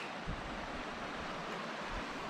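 Ross Fork Creek in the Idaho backcountry, a steady broadband rush of flowing water heard close and continuous with no talk, its even hiss holding at a constant level throughout.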